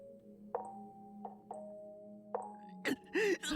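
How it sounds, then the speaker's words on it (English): Knocking in the Chaos;Child visual novel, several sharp separate raps spaced across the clip over a low steady hum, followed by a burst of louder, denser noise at the end. "The knocking sound I'd heard when I was at the hotel."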